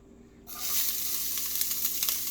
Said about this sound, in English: Once that's heated up, put in your shallots.